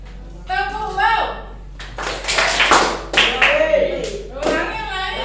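A group of children and a leader perform the "tepuk wow" clap chant, with sharp, uneven claps mixed into spoken and chanted voices, close and lively in a room.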